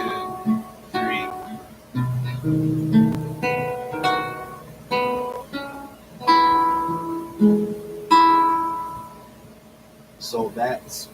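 Plucked strings play the parts of Amazing Grace together in a slow, loose sequence of picked notes that ring and decay, close and moderately loud, with a few quick string sounds near the end.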